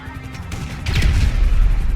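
Grenades explode in a Grand Theft Auto V game, a brief burst of cracking blasts followed by a low booming rumble that swells and lingers.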